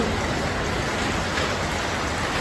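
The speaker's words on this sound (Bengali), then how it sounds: "দেখো বৃষ্টি হচ্ছে ভীষণ" Heavy rain pours steadily outdoors as a dense, even hiss that stays loud and unbroken throughout, with no voices over it.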